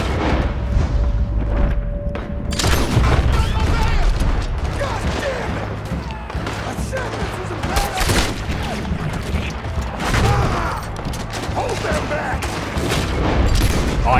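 A gunshot rings out in Red Dead Redemption 2 as a warning shot, loud sharp reports amid a busy, rumbling mix of repeated bangs and ambient game noise, continuous over several seconds with no speech.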